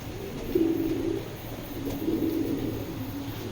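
Racing pigeons cooing in a loft, soft low throaty coos in two short bursts over a quiet background.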